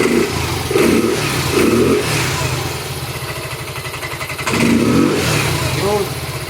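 Honda Mio Soul 125 scooter engine with a minor idle fault running and revving close by, a steady throbbing idle with a few rises in pitch, while someone talks over it.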